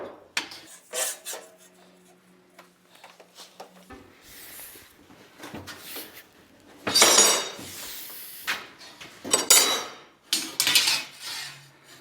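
A 1911 Edwards No. 5 shear cutting metal stagecoach hub pieces in a coach shop, sharp metallic clanks and clattering bursts, close and loud, scattered irregularly among quieter stretches, no talking.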